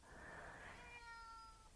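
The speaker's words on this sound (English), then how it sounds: "I can hear the cat meowing as I'm saying that." A cat meows once in the background, a single drawn-out, faint meow rising and fading over about a second.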